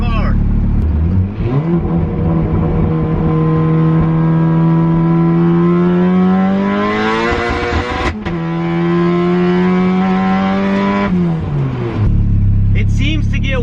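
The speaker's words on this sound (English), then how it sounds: "This car runs hard, man. It's a fun car." A Honda Integra engine with a spark blowout fault revs hard and loud up close, its pitch climbing and holding steady, dipping briefly, then rising again before settling to a lower idle.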